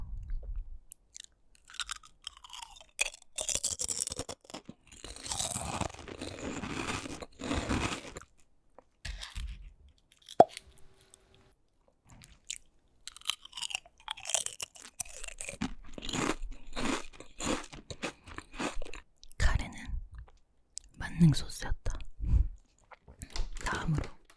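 A spicy nacho snack bitten and chewed close to the microphone, with repeated loud crunches and chewing in irregular bursts separated by brief pauses.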